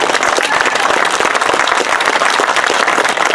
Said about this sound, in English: please give a very warm round of applause to Joe's 7th grade teacher, Miss Brunelli Rendane